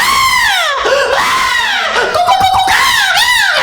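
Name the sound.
comedian imitating a woman screaming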